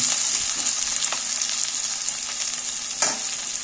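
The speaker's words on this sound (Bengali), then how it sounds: "এইবার পেঁয়াজগুলোকে আমি একটু তেলের মধ্যে নাড়াচাড়া করে ভেজে নেব" Sliced onions fry in oil while being stirred, giving a constant bright sizzle and an occasional louder scrape from the spoon, close and unbroken by talk.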